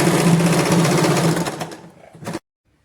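A sewing machine stitches a palazzo trouser seam, humming in a loud, steady, rapid run that slows and cuts off abruptly, leaving silence.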